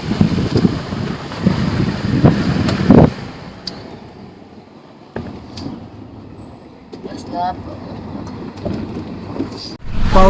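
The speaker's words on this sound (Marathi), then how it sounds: "पाऊस" Rain patters and rushes with wind buffeting the microphone, a loud gusty stretch fading to a steadier downpour with scattered sharp knocks.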